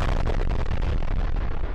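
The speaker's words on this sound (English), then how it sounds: "What are those explosions for?" Loud, continuous rumbling blasts from an animated Skibidi Toilet battle, a dense wall of booming explosion noise with no pauses or speech throughout.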